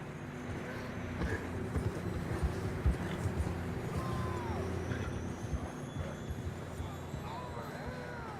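Horses gallop with steady clip-clop hoofbeats across open terrain in Red Dead Redemption 2, mixed with wind and game ambience while voices speak over them.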